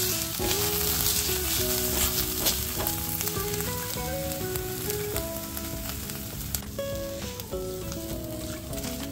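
Ginger garlic paste sizzling in a pan while wadi rice is being cooked, a steady close frying hiss with stirring scrapes throughout, under soft background music with no voice.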